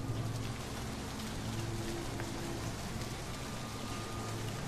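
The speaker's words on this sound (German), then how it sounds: "Und raus in den Regen." Steady rain pours throughout an outdoor scene in the stealth video game Splinter Cell, a dense, even hiss of falling drops with no voices.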